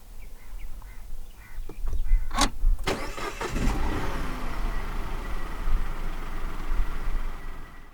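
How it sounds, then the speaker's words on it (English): Citroën C3 Aircross with the 1.2 PureTech engine starting: a few soft clicks, a brief starter whir, then the engine catches and settles into a steady close idle. "to start the C3 Aircross, make sure the key fob is inside the car"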